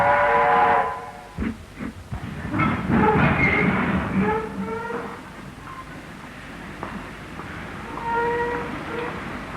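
A steam express train in New Zealand pulls out onto a steep spiral climb, sounding its whistle in several blasts amid chuffing and rail rumble, moderately loud and gradually fading.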